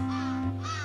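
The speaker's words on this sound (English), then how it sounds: "that bird almost killed me the first time I went here because it's just... it's going in a diagonal fashion" A single harsh cawing bird call from the video game Santa Clause In Trouble, a short raspy crow-like cry sounding over a steady tonal hum of game music, with no voices.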